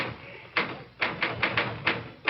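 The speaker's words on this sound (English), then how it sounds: "will you knock it off with the typing and look at me" Typewriter keys strike in a loose, uneven run of crisp clacks, about six distinct hits separated by short pauses, in an old-time radio mystery drama.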